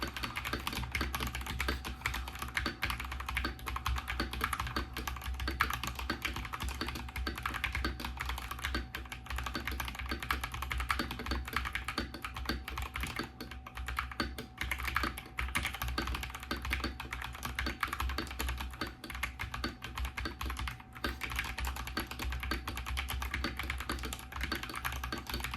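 Rapid, steady typing on a computer keyboard captured on an iPhone, a dense continuous patter of key clicks at close range with no talking.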